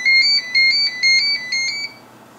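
A Sony Xperia Ion mobile phone ringtone plays a bright, repeating electronic melody in short bursts about half a second apart, loud and close, with no talking.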